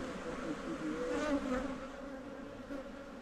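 Honeybees buzz over an opened hive frame of capped brood at a teaching apiary, a steady, droning hum close by with a few louder passes of individual bees.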